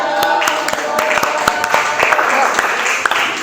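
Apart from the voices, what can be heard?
applause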